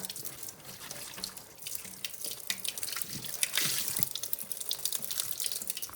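A kitchen tap runs steadily while a surface is washed, a close hissing stream of water with small splashes and drips throughout and no talking.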